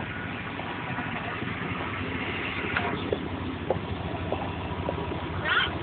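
An SUV engine fueled by MagneGas idles at moderate distance with a steady low drone, joined by a few faint clicks and brief higher noises.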